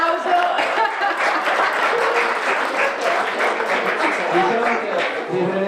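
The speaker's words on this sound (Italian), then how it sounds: "Qua c'è un applauso." Audience applause fills a hall during a scout event in Conegliano, a dense, steady wash of many hands clapping close by, with some crowd murmur and light laughter mixed in.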